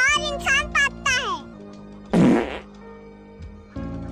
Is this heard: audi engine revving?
no